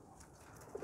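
A pigeon gives a faint, brief low coo at the very end of a quiet moment.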